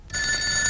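A telephone bell rings inside a house in a comedy scene, a steady bright electronic ring with sustained tones that starts after a brief quiet moment and continues loudly, with no talking over it.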